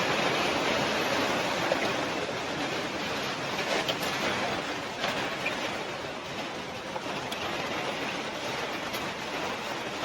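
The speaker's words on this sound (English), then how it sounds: "There's the Redington Stream. It's big. Looks like a river." A large stream in the Maine woods, wide like a river, roars steadily and close throughout, a dense broadband rush of flowing water with no voices.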